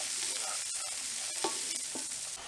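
Butter, celery and onion fry in a hot pan, giving a continuous close sizzle with brief scraping stir strokes and small crackles over a couple of seconds, without any talking.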